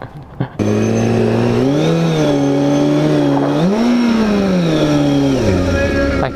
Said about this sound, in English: Rolling burnout.